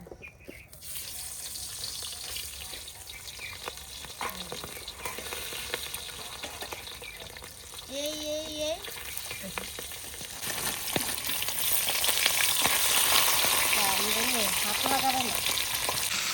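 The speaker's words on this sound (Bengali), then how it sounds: "এখন এই বেগুন ভাজা তেলের মধ্যে মাছের মাথাগুলো দিয়ে দেবো" Fish heads sizzle and crackle in hot oil left from frying eggplant, a steady close frying hiss that grows louder and busier toward the end, with a brief spoken word and faint background sounds.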